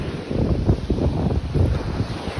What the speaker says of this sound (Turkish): Deniz çok dalgalı. Havada serin.